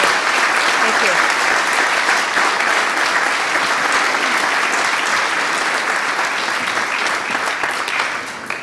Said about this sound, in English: Can we give them a huge, huge round of applause?